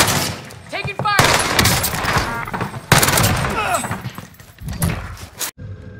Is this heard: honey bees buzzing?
no